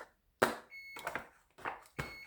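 A preheating oven sounds a short electronic beep, brief and fairly faint, among louder bumps and clattering kitchen noises.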